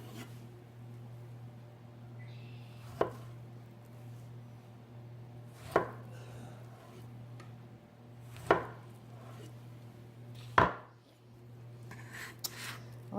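Knife slicing through a stack of three sweet potato slices on a cutting board; about five crisp, separate chopping thuds spaced a few seconds apart over a quiet room hum.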